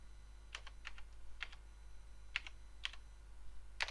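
Typing on a computer keyboard, a handful of separate clicky keystrokes in short bursts, close and fairly quiet, over a low steady background hum.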